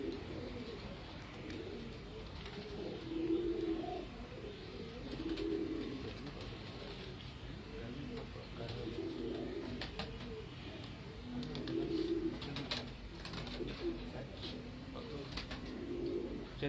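High-flying pigeons coo at their loft under a net, soft repeated rolling coos recurring every couple of seconds against a low hum of background noise, with no talking.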